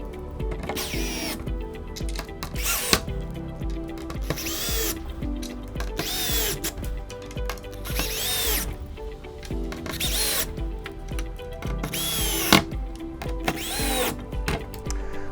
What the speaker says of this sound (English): we're going to use our drill on half power to drill them all into their nylon inserts